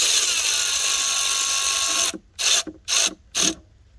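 A torque wrench ratchets while tightening a bolt, giving a loud continuous clicking run and then three short separate ratchet bursts, close up.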